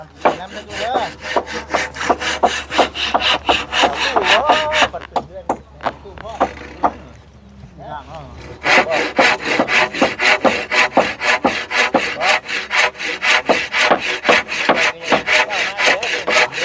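A hand saw cuts through wood for house building, loud and close, with rapid rhythmic back-and-forth strokes, a brief pause in the middle, then steady sawing resumes; voices talk faintly underneath.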